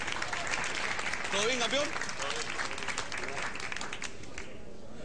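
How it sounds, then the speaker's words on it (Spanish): A gym crowd applauding a boxer's entrance, a dense continuous roar of clapping that runs throughout, with a voice briefly heard over it. "Fuerte el aplauso para recibir a Ringo Di Gennaro."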